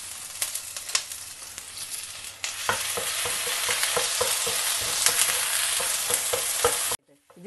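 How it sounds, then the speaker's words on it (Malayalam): Ginger garlic paste stirred and fried for a mutton curry, a loud steady sizzle broken by repeated spoon scrapes against the pan, close and continuous until it cuts off near the end. "എന്നിട്ടിത് നന്നായിട്ടൊന്ന് ഇളക്കി കൊടുക്കാം."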